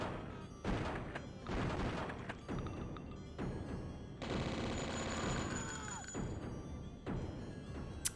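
Bursts of gunfire at cultists in the video game Blood, several rapid rattling volleys and sharp shots separated by brief gaps, fairly close, with no talk.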